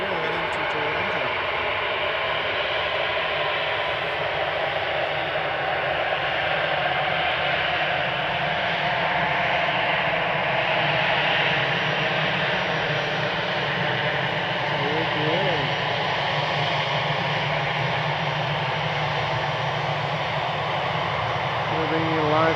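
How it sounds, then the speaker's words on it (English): Air Canada flight 160, a jet bound for Toronto, runs its engines with a steady, fairly loud roar and whine that carry on for the whole stretch, while a voice talks over the noise. "on your screen right now we have Air Canada flight 160 heading to Toronto."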